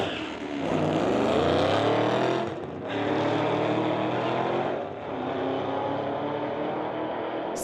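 A red Ford Mustang and a Camaro drag race down the strip, engines roaring in a steady high-revving drone that swells, dips at gear changes, and carries on loud without speech.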